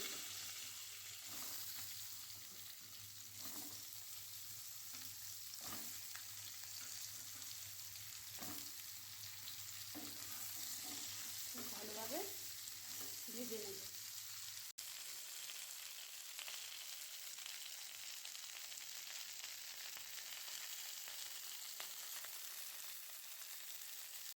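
Eggplant frying in hot oil with green chillies and nigella seeds for a parshe fish curry, giving a steady close sizzle throughout, broken in the first half by several stirring scrapes and clinks.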